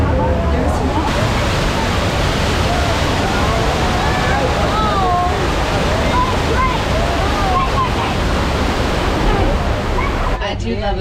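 A rushing water effect on a studio tour earthquake attraction at Universal Studios Hollywood, a loud, continuous roar like a waterfall or surf that fills the whole stretch, with faint voices mixed in.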